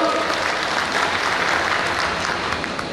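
Steady, dense applause from a large audience at a motivational conference speech, loud and continuous throughout.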